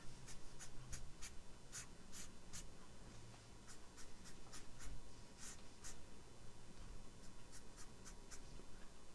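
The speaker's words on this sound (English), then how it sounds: "we're gonna go over here and draw like a line pattern right here, like a hashtag" A pen drawing a hashtag-like line pattern on paper, a series of quick scratchy strokes repeating at an irregular rhythm, faint and close, over a low background hum.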